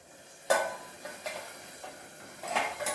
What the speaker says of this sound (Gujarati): વચ્ચે વચ્ચે આપણે આ શાકને હલાવતા રહીશું।